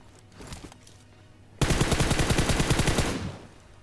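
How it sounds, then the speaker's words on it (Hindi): Gunfire in the mobile shooter game BGMI, a rapid automatic burst of about a dozen sharp shots fired in quick succession after a quieter opening, then cutting off. "अब यहाँ छेद से मैं गोली अंदर डालता तो, लेकिन गोली अंदर डली कि नहीं मेरे को पक्का नहीं पता।"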